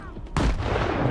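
A grenade in Stalker 2 goes off with one abrupt, heavy blast after a brief quiet lead-in, the roar sustaining loudly to the end of the short moment.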